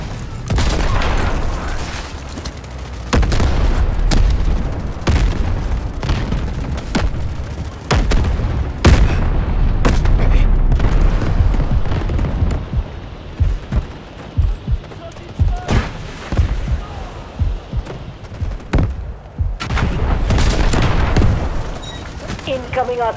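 Artillery shells boom and burst in rapid succession amid gunfire in the Delta Force Hawk Ops shooter, loud and dense, with heavy explosions layered over continuous battle noise and occasional radio voice callouts.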